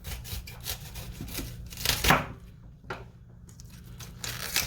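Knife cutting the bottom off a whole head of cauliflower: a few close, crunchy cuts and scraping strokes with short pauses between them, no talking.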